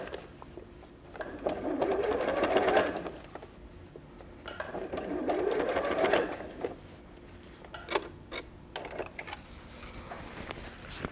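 Sewing machine stitching a curved bag front to a gusset in short bursts, with two sustained runs of whirring stitching separated by pauses and a few sharp clicks near the end.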